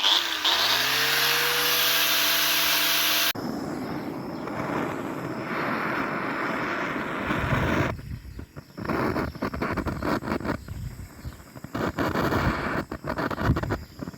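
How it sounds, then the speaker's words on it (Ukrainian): An angle grinder sanding an old wooden bench outdoors whines steadily for a few seconds then cuts out, leaving rough scraping noise and gusty wind buffeting the microphone. "беремо болгарочку і зачухуємо, щоб воно вровень було красивенько"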